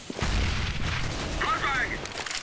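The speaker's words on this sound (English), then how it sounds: "Grenade!" A grenade goes off in CS:GO on the de_inferno map, a heavy, booming blast with a rumbling low tail, while a player speaks over the explosion.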